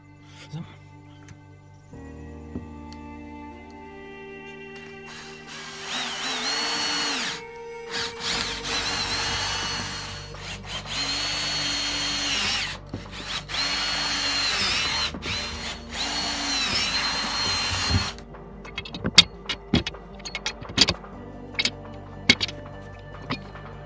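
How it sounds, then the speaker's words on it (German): A power drill bores holes for a DIY motorcycle topcase mount in several sustained whirring bursts, with the motor pitch rising and falling, followed by sharp clicks and knocks as the work finishes. "Wenn ihr euch sicher seid, dass alles passt, geht's ans Bohren."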